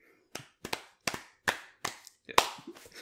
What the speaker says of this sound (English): Commence awkward clapping.